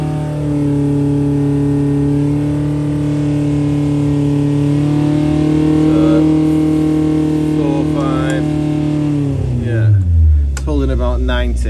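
A car engine with Dellorto DHLA carburettors runs loud and steady, then its RPM drops toward the end, the pitch sliding down, while a voice talks over it.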